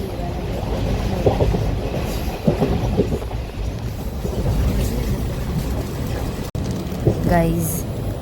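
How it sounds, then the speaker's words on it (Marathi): A passenger train pulls out of a station and rolls along on a trip to Konkan, rhythmic clickety-clack of wheels over rail joints with a steady rumble, people talking over it and a brief squeal near the end. "आता ट्रेन सुटले फायनली"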